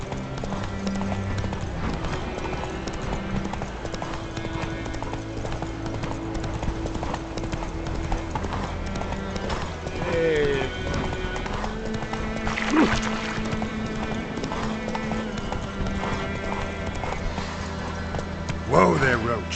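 Geralt's horse Roach trotting in The Witcher 3, a steady clip-clop of hooves running through the whole stretch beneath game music and ambient sound, with character voices talking over it.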